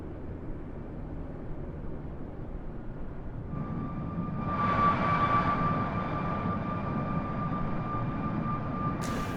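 An airplane passes in a Microsoft Flight Simulator flyby viewed from the airport tower, a steady engine drone that swells and brightens midway with a sustained tonal whine, then holds, with no speech.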